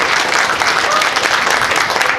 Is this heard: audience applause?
yes